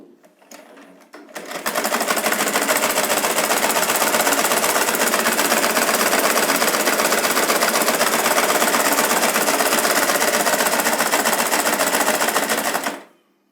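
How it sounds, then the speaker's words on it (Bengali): A sewing machine stitches a piece of cloth, running steadily at high speed for about eleven seconds in a loud, continuous mechanical rattle after a brief quiet start, then stopping abruptly. "সেলাই মেশিনটা চালিয়ে এটি একটি কাপড় আমি দিছি তো কাপড়টাকে আমি এখন সেলাই করব"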